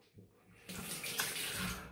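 Tap water runs into a sink, wetting a face before lathering for a wet shave with a Rockwell 6S safety razor; a quiet start gives way to a steady, close splashing stream with a brief louder burst.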